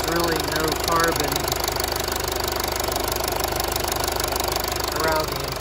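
A 2014 Mercedes-Benz GLK250 BlueTec engine idles close by, a steady, even rumble with a faint rhythmic knocking pulse throughout.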